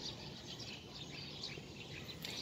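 Birds sing and chirp in a rural hinterland area at morning, with insects buzzing steadily, thin calls scattered over a constant low background hum.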